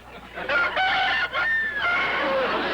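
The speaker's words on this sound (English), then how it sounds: "it is a rooster" A rooster crows loudly and close by, a long drawn-out call with a brief dip in the middle, followed by another stretched crow.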